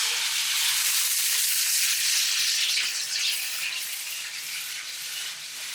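Garlic sizzles in a pan taken off the heat as tomato conserva is added, a steady close bright hiss with crackle that eases slightly toward the end.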